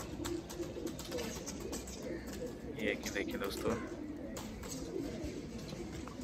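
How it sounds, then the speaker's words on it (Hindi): A large flock of about a hundred pigeons coos at a loft, a soft rolling murmur under someone talking throughout, with scattered outdoor noise. "माशाल्लाह 100 कबूतर है टोटल"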